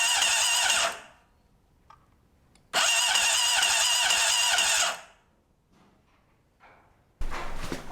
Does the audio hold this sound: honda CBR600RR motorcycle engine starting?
yes